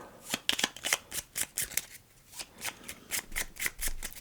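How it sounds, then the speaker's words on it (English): A deck of game cards is shuffled close up, giving a run of crisp riffling bursts, roughly a dozen quick rhythmic ruffles in a row with no talking. "So I'm going to shuffle these up while you go"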